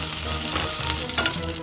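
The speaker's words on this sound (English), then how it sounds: "let's put the shrimp in" Shrimp fry in plenty of oil in a pan with a loud, close, continuous sizzle, crackling and popping throughout the short stretch, with a few light stirring scrapes.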